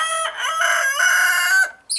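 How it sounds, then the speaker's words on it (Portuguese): Rooster with a cold crowing once, a loud close harmonic crow lasting about a second and a half, cut off abruptly, followed by a short squawk at the end. "Vamos ver os galos aqui à maneira."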